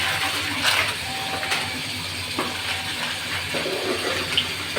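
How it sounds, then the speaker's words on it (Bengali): Water runs steadily into a sink basin in a home kitchen, a continuous splashing hiss close by with a few brief clinks over it and no talk. "এদিক দিয়ে আবার বেসিনে কাজ চলতেছে, তো এই কারণে আওয়াজ শোনা যাবে"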